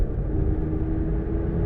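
A hot hatch driven hard like a sports car, its engine giving a steady, close, loud rumble with continuous road and cabin drone throughout.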